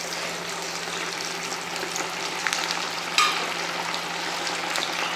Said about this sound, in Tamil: எண்ணெய் நல்லா காஞ்சிருச்சு சிக்கனும் நல்லா ஊறிடுச்சு இப்போ எண்ணெயில் போட்டுக்கலாம்